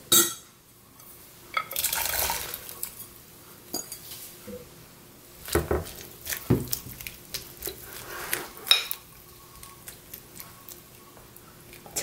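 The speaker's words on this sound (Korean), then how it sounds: "설탕 3스푼 넣고 이렇게 녹여가지고는 넣고 불리겠습니다" Sugar water, made from three spoonfuls of sugar, is poured from a bowl onto dried radish strips to soak, giving faint splashing and trickling broken by clinks of dishware and light handling taps.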